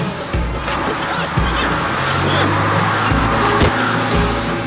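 Cartoon tractor engine revving hard while stuck in thick mud on a farm, a loud steady rumble with repeated surging pushes, mixed with comedic sound effects.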